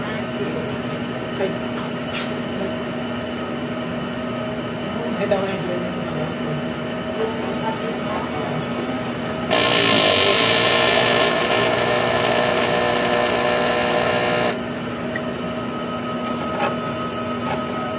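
A sublimation printer runs its print-head cleaning cycle, a continuous close mechanical whir and hum that swells into a louder, brighter rushing drone midway before settling back down.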